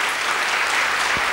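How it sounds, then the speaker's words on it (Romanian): Dense applause from an audience at a local awards event, a steady wash of many hands clapping at once, loud and continuous. "vă rog să-i aplaudați pe colegii mei."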